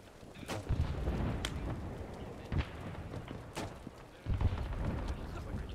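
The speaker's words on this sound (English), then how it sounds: "Oh, grenade!" Grenade explosion in the Arma Vietnam-era battle for Hue City, heard as a few dull booming blasts over steady gunfire and battle noise, with a sharper burst near the end.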